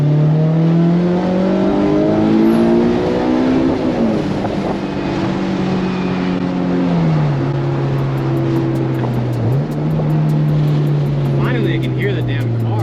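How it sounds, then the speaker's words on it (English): A Honda S2000 with a new exhaust and test pipe accelerates, its engine note climbing through a loud, sustained drone heard from inside the car. The pitch dips briefly at gear changes, with wind noise throughout. "Finally, I can hear the damn car, bro."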